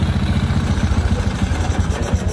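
A motorcycle engine idles steadily just after carburetor tuning, giving a continuous, fairly loud low throbbing pulse with even rhythm and no talk over it.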